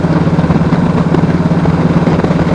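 A Kawasaki Voyager motorcycle engine runs steadily up close, a loud, even throb with a rapid pulsing rhythm and no talk.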